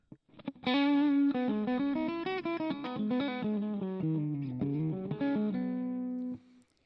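A guitar with a shimmering chorus effect plays a sustained melodic line of notes and chords, clean and steady, ending on a held chord.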